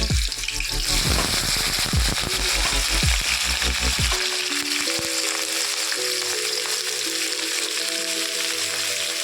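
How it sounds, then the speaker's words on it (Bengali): Black cumin and green chillies temper in hot oil in a pan for a Bengali vegetable curry, giving a loud, continuous close sizzle throughout with faint clatter early on. "প্রথমে কালো জিরে ফোড়ন দিয়ে দিলাম, দুটো কাঁচা লঙ্কা দিয়ে দিচ্ছি।"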